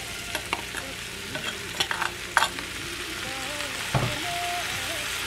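Potatoes and tomatoes fry in a pan for a Nepali potato curry, giving a quiet, steady sizzle broken by scattered stirring clinks and scrapes, with no talk.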